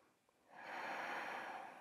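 A single deep breath from a yoga instructor, a soft airy rush swelling in after a short pause and held steady, close to the ear and fairly quiet.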